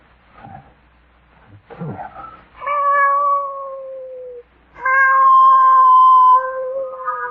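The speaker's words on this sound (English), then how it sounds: "I'm bringing this cat in here." A cat gives two long, loud, drawn-out meows after a few scuffling sounds, close and clear against a quiet background.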